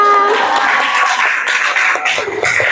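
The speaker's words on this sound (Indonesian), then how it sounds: "Kasih tepuk tangan." Pupils in a classroom clap for a group presentation, a busy, close spatter of hands. Excited children's voices and shouts run through it the whole time.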